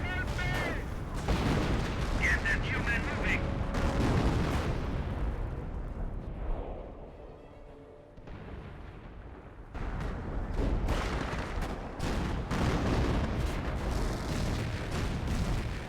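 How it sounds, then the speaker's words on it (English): Artillery barrage from a 25-pounder or Priest in the Company of Heroes strategy game: repeated loud booms and gunfire bursts through most of the stretch, easing to a quieter lull midway before dense firing resumes, with a commentator talking throughout. "25-pounder firing away, or a priest, I should say."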